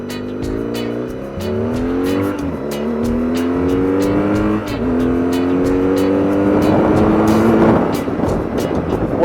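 A car with traction control off accelerates hard along a closed-off main road turned into a drag strip in Australia. The engine sounds loud and close, revs climbing repeatedly through gear changes, with a rough, gritty roar near the end.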